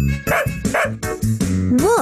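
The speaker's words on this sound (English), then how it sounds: "A dog makes a woof sound." A dog barks in a few short, bright woofs at an uneven pace, sounding close and loud over a light, looping background melody.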